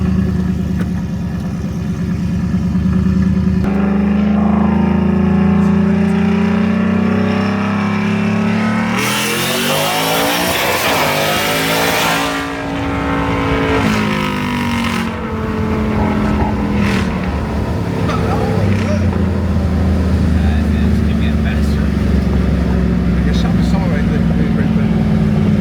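Supercharged Ford F-150 pickup with a Whipple supercharger revving and accelerating hard, a loud rising engine roar with a falling pitch sweep midway, then settling into steady engine drone, with people talking in the cab.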